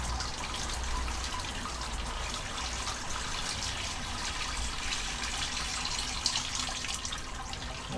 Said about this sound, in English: that's the last bit of sparge water going in